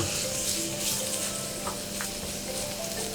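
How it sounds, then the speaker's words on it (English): Sliced ginger sautéing in a hot pan, a steady soft sizzle with faint stirring clicks, close and even throughout. "So the first item I'm going to saute is actually the ginger, the sliced ginger."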